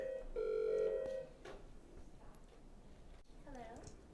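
A telephone rings once, a loud electronic warble lasting under a second, then fades into room noise in a quilting and sewing studio with ironing and cutting stations, with faint voices in the background.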